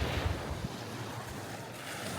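Surf washing onto a beach on Con Dao island, Vietnam, a steady broadband wash with a few low thumps of breaking water early on, mixed with wind buffeting the microphone.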